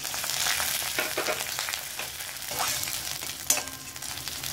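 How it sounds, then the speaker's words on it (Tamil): Steady sizzling and crackling of cashews, ginger and curry leaves frying in hot ghee, with a few louder pops and stirring scrapes, no talking. "இது எல்லாத்தையும் நல்லா வறுத்து எடுத்துக்கலாம்"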